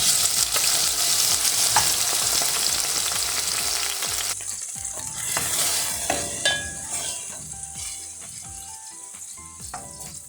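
A fish fillet fries in a pan with a dense, steady sizzle that eases a little partway through, broken by light clinks of a utensil stirring.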